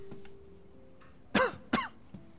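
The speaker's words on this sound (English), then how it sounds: "Already coughing entering this room." Two harsh throat-clearing coughs come close together, near and fairly loud, followed by a faint third, against a quiet room.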